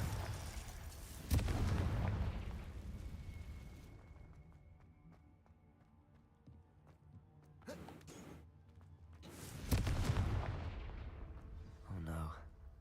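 Confringo blasting spell in a Harry Potter video game, heard as booming explosion bursts: a heavy blast early on, then a couple of further detonations later, with a low rumble and game sounds between them.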